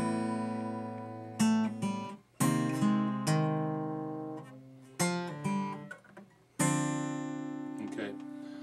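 The opening riff of a song rendered on guitar: bright strummed chords and ringing notes in a few separated phrases, each attack decaying before the next, clear and close with no talking.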